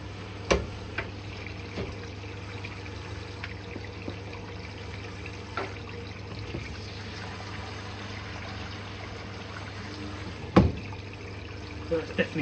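An Electrolux Quickwash commercial washing machine fills with water for a rinse, giving a steady low hum and flowing water. Occasional faint clicks and knocks sound nearby.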